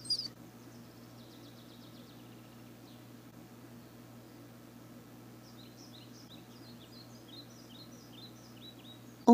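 Faint birds chirp and trill in short bursts, one early and a run of quick calls later, over a steady low hum.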